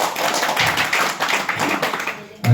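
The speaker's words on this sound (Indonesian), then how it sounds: "berikan tepukan tangan semua" Audience clapping hands at a seminar, a dense continuous patter of many hands filling the room at steady loudness before cutting off sharply near the end.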